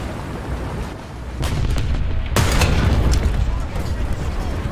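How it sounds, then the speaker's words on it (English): Tank cannon fire from a 75mm Sherman Jumbo battle in War Thunder gives two sharp booms, the second louder, over a rumbling engine bed, with someone talking over it. "You guys are gonna keep shooting at me"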